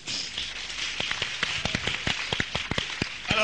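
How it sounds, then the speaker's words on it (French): A small audience claps for a performer, sparse at first and then building into a quicker, uneven patter of individual hand claps at moderate distance, with a brief sharper burst at the end. "on applaudit fort, Koucha"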